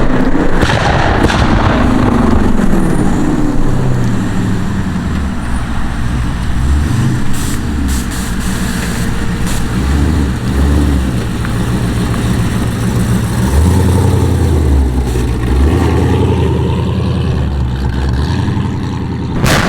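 A loud modified street car engine, billed as Charlotte's loudest, rumbles close and heavy for about twenty seconds, its deep exhaust swelling and dipping through repeated revs with no talking.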